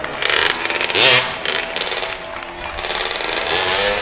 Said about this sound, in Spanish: Ese tubo de escape no sé si está homologado